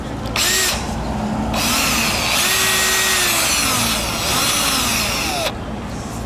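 A Black & Decker power drill, broken and spinning freely inside, whirs loudly and steadily, its motor pitch dipping and rising as the trigger eases and squeezes, with brief pauses at start and end.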